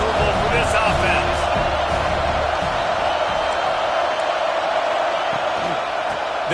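Georgia football stadium crowd roaring steadily during an opposing team's offensive drive, a dense wash of noise under continuous play-by-play commentary.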